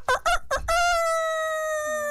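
A rooster crows once in a long drawn-out cock-a-doodle-doo, opening with three short choppy syllables and then holding a sustained tone, loud and close; the sound may be a human voice imitating a rooster.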